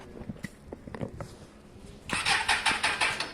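A Suzuki Bandit 600 motorcycle with a low battery cranks and sputters, failing to start cleanly: short irregular turnover bursts give way to a louder run of rhythmic chugging pulses, close to the microphone, with a few voices briefly in the background.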